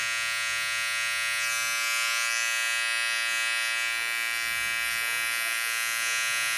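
Electric hair clippers buzzing continuously while cutting hair during a fade, a steady close whine with a strong harmonic hum that barely changes in pitch and no speech over it.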